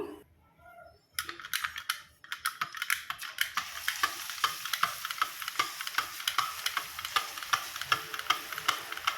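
Jantikalu (murukku) dough frying in hot oil, a dense crackling sizzle that starts suddenly after a quiet opening and keeps up with rapid, sharp pops, close and loud, with no talking.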